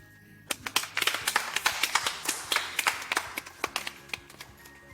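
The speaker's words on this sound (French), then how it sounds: "Applaudissons-nous." A small group of children claps their hands in a classroom-like setting, starting after a brief pause with distinct, fairly close claps in a loose, uneven rhythm before tapering off.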